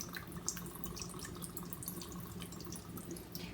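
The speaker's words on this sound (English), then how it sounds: "we're gonna put vinegar on it" Vinegar is poured onto an octopus being cleaned in a kitchen, a faint, steady trickle of liquid with light splashing throughout.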